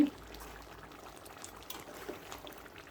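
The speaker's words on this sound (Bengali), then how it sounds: "এ পর্যায়ে আমি কেটে রাখা লাউ দিচ্ছি" Chopped bottle gourd goes into a pot of beef cooking down in a Bengali-style curry, giving a soft, continuous sizzling hiss with faint liquid bubbling throughout.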